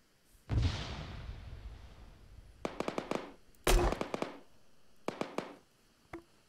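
Video game gunfire: a big opening blast with a long rumbling tail, then two bursts of rapid sharp shots, another heavy boom, more quick volleys and a final lone shot, loud and close with no talking.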